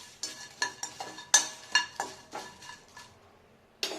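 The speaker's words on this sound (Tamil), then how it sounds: "நல்லா ட்ரை ரோஸ்ட் பண்ணுங்க" Garam masala spices dry roasting in a pan: a spoon clinks and scrapes against the metal in a loose rhythm of sharp taps, close and fairly quiet, with no talk.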